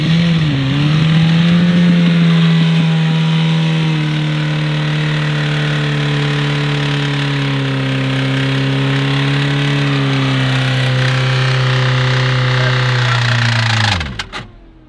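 A car engine runs loud and close at a steady idle with slight rises in pitch, holding for about fourteen seconds before shutting off abruptly.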